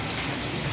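Heavy first rain of the season falls in Karachi in a continuous, even hiss, close by and moderately loud, with no voices.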